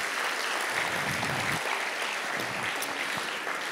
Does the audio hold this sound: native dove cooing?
no